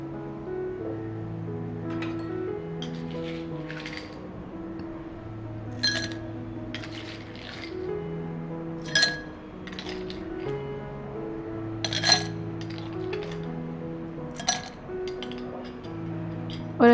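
Crushed ice drops into a mojito glass and gets stirred, producing scattered bright clinks and rattles against the glass over soft background music.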